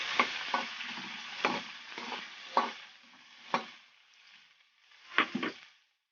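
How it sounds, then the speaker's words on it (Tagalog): Fried milkfish with ginger is stirred in a pot for sinigang, producing a gentle sizzle and a series of short scraping spoon strokes, close by and without speech, fading out at the end. "haluin lang natin."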